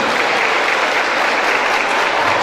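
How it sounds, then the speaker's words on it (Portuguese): Steady, dense applause from an audience at a school event, loud and continuous throughout with no break or voices standing out. "uma salva de palmas a esse belo evento que está acontecendo"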